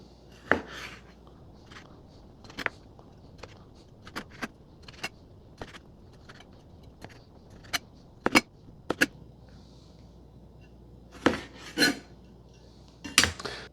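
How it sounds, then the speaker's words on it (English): Pasta is stirred in a metal pot with a spoon, giving sparse sharp clinks and scrapes at irregular intervals over a quiet background. "We'll give this a good stir"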